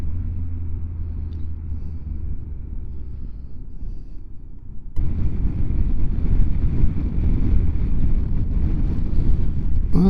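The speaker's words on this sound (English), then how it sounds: "it's quite a windy day" Wind on a blustery day buffets the microphone as a low, rumbling roar that jumps sharply louder halfway through and keeps gusting steadily, with no voices.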